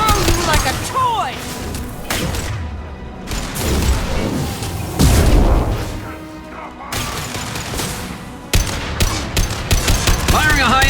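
Mass Effect Legendary Edition weapons fire in rapid, dense bursts of sharp cracks and crashing impacts, loud and close, with combat voices mixed into the chaotic battle noise.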